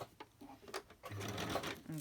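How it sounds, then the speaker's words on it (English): Domestic sewing machine stitching across the top edge of lace, a close whirring run of stitches in short bursts with pauses between them. "I'll just stitch across the top of the lace if my sewing machine doesn't have a spaz"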